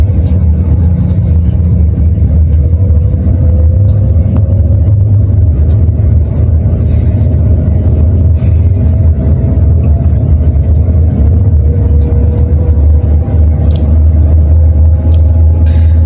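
A car engine drones loud and close as it accelerates steadily after a shift into second gear during a driving lesson, its pitch slowly rising over about sixteen seconds.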